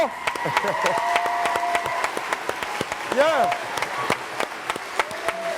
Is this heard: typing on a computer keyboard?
no